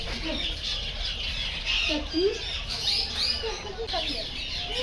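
A blue lovebird in a park aviary in Vadodara squawks in short, harsh bursts at close range, mixed with other bird chirps and faint voices in the background.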